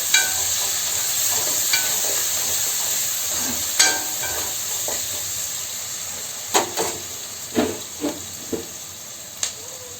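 Sliced onions, two of them, sizzling in hot oil in a pan for gongura chicken, a steady close hiss with scattered spoon stirs and clinks against the pan.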